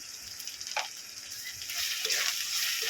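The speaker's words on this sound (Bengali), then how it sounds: "এবারে এই পেঁয়াজের মধ্যে আমি আদা রসুনের পেস্ট দিয়ে দেবো আচ্ছা আমার আদা রসুনের পেস্ট দিয়ে এটাকে ভালো করে একটু ভেজে নেব" Onion and ginger-garlic paste frying in a pan for a chicken and potato curry, a soft steady sizzle that swells louder toward the end, with occasional stirring clinks, no talk.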